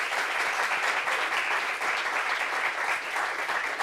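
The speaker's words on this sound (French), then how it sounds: "Applaudissements pour elle, s'il vous plaît." A studio audience on a talk-show set gives a guest sustained, even applause, a thick and steady roar of many hands clapping that stays loud throughout and goes on without any voices.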